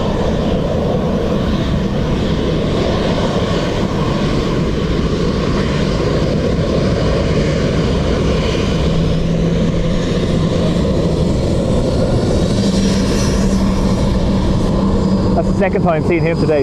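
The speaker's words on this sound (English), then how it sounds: "Turkish 330 from Istanbul." A Turkish Airlines Airbus A330 arriving from Istanbul at Dublin Airport roars loud and steady, a broad engine rumble with wind buffeting the microphone while a person talks over it.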